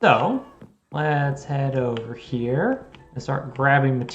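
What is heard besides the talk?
None of the usual background noises is heard.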